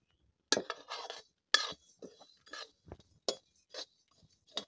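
Mango pickle spices stirred in a pan with a utensil, giving sharp clinking scrapes in short irregular bursts, fairly close and moderately quiet, with brief pauses between strokes.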